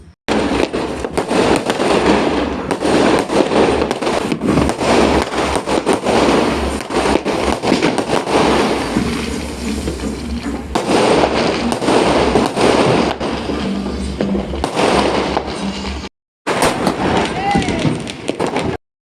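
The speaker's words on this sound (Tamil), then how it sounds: "ஸோ நைட்டு பார்த்தீங்கன்னாக்கா வழக்கம் போல் பட்டாசு வெடிக்க ஸ்டார்ட் பண்ணியாச்சு" Diwali firecrackers and fireworks burst at night in rapid, continuous crackling volleys, loud and close, with a string of sharp bangs. The noise runs almost without pause for about sixteen seconds, breaks briefly, then resumes.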